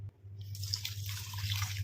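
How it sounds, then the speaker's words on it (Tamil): Water being poured into a bowl of rice set to soak, a steady splashing, trickling pour that runs close and fairly loud for the whole two seconds over a low constant hum. "இப்போ இதில் வந்து நம்ம தேவையான அளவு தண்ணி ஊற்றிக்கலாம்"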